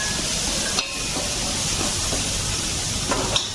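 Crushed garlic and four cut dried red chillies sauté in hot oil in a pan, a steady close sizzle and hiss with a few faint stirring clinks and no voices.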